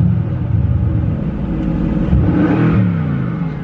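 A Mercedes-AMG GT with a 557 HP engine fires up and settles into a deep, steady rumble, with a slight rise in revs partway through, loud and close.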